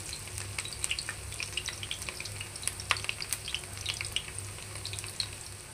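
Jackfruit shashlik frying in a pan on a stove, a soft continuous sizzle with scattered crisp pops and crackles, steady and close, no speech.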